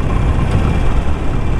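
Harley-Davidson Sportster 883 Iron with stock exhaust pipes running close by, a loud, low, rumbling engine drone that holds steady throughout.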